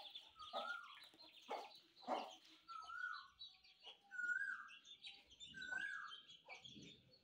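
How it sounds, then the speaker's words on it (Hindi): An Aseel hen clucks among her six newly hatched chicks indoors, giving repeated soft, close clucks with thin chick peeps scattered through the background. "हमने इस कमरे में जो बैठाई हुई थी ना मुर्गी, उसने 6 चूजे निकाले हैं सुबह।"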